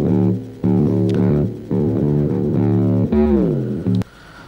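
A fuzzy, synthy guitar line from a glitching octave pedal, its pitch gliding and leaping erratically, with a couple of sharp clicks and an abrupt cutoff at the end.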